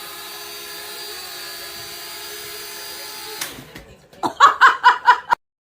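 A small drone hovers with a steady, high buzzing whine that stops abruptly, followed by bursts of laughter.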